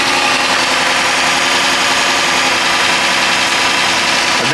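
A Dodge Charger with bullet holes idles steadily, its engine giving a constant, fairly loud broadband rumble with no change in pace throughout and no voices.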